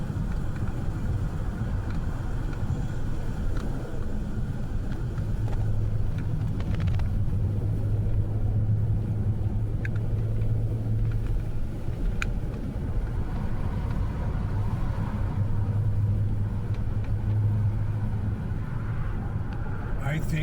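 A car cruising through a road tunnel near Black Hawk and Central City, its engine rumbling low and steady with a boomy, enclosed wash of road and wind noise that never lets up.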